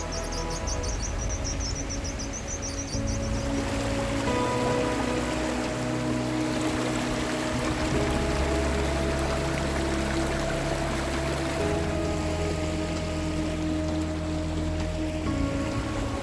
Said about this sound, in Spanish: este es otro arroyo que queda paralelo al que acabamos de ver ahorita